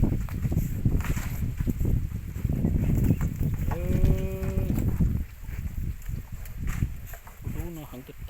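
Cattle moo outdoors: one long, drawn-out moo mid-clip and a shorter call near the end, both under ongoing conversation between people nearby.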